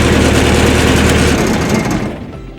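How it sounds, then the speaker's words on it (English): A Spartan series machine's engine runs with a loud, steady, close mechanical drone, then winds down and fades as it is switched off near the end. "Now the engine is running, and then we stop."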